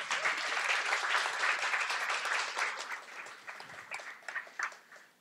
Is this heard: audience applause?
yes